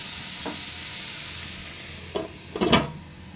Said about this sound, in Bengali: তো ব্রোকলিটাও একটু ভেজে নিচ্ছি